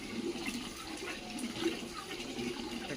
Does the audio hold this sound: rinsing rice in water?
yes